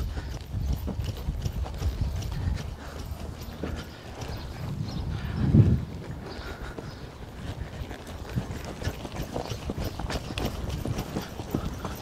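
Horse hooves thud on prepared ground during a training session, a soft irregular clip-clop that rises briefly in the middle, with a faint brief voice.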